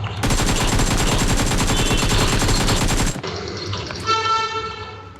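Automatic gunfire in the mobile game BGMI rattles in one loud, sustained burst for about three seconds, then cuts off into quieter game sounds with a brief horn-like tone.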